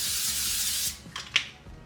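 Cooking spray hisses from a can onto a pan in a kitchen, a steady close spray lasting about a second, followed by a few light clicks and taps.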